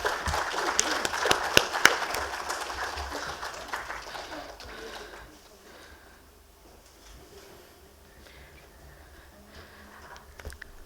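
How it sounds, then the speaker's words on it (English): Audience applause at an industry conference on manufacturing, loud dense clapping for the first few seconds that fades into quieter room noise with faint scattered sounds. "Ladies and gentlemen, please give a huge round of applause."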